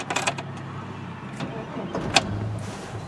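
A warmed-up 2000 Chevy Blazer LT engine restarting after idling, with brief cranking bursts and a quick catch into a low steady run, heard up close.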